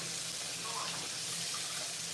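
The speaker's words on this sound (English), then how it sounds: "Let me rinse this." Kitchen tap running steadily as something is rinsed under it, a soft continuous hiss of flowing water with slight splashing, fairly quiet and unbroken.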